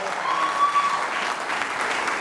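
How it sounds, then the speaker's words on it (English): An audience at a community media network event claps steadily for a pair of presenters and a high-school graduate being introduced, a short, even burst with a thin steady tone running through its first half. "Please give them a round of applause."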